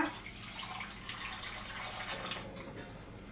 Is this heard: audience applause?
no